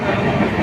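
Train leaving Rangiya railway junction on the southern line, a steady loud rumble of wheels and carriages heard from on board, continuous and close.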